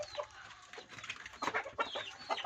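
Chickens in a backyard coop in rural La Union, a run of soft and sharper clucks and squawks spread over a few seconds, close by and fairly quiet.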